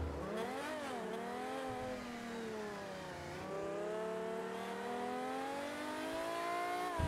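A V12 car engine in GTA revs continuously and loudly, its pitch climbing, dipping around the middle and rising again over a steady sustained drone with no talk.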